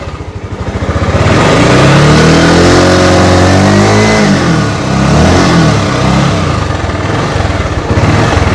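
A nearby 2016 Bajaj Avenger 150 Street motorcycle engine runs loudly, revving up and down in rising and falling sweeps before dropping back to a steady idle.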